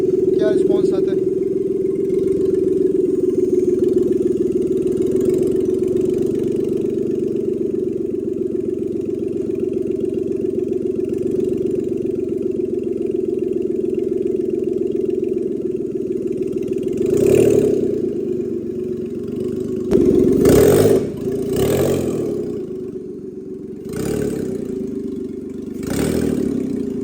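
A Suzuki Alto VXR hatchback, fitted with an automatic conversion and hooked to a scanner, starts and settles into a steady mid-pitched idle, then pulls away on a test drive with a few louder bursts near the end while someone talks over it.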